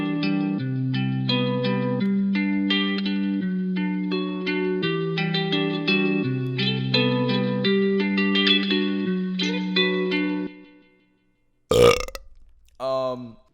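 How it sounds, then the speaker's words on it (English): A distorted, effects-laden hyperpop electric guitar loop in its raw, unedited form plays steadily and loudly for about ten seconds. It stops abruptly, and a short burst of voice follows. "I'll play you what this loop sounded like before I made any edits to it."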